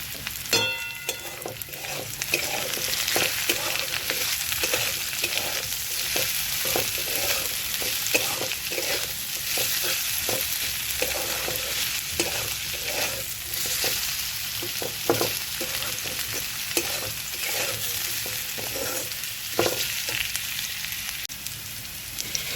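Potatoes and bitter gourd fry in a pan with salt and turmeric, giving a steady, close sizzle throughout with repeated stirring scrapes and clinks, and no voices.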